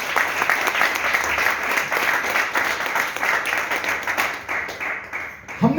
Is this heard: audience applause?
yes